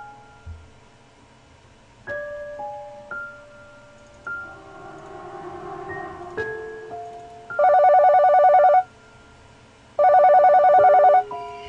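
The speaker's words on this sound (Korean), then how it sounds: "이 순간 주머니에서 전화벨이 울렸다." A phone rings loudly in two long electronic bursts, preceded by a soft rising melody of tones.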